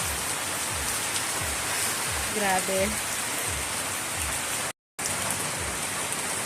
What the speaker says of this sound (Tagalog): Pinarating lang talaga kami dito sa bahay, biglang buhos ng ulan.